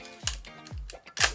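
A Konica single-lens reflex film camera fires its shutter three times in quick succession. Each release is a sharp, close mechanical clack with a low thump, separated by short pauses.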